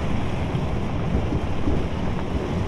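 Fast-moving floodwater in a VR tornado game rushes in a steady, dense roar, loud and unbroken like wind and surging water, with no voices.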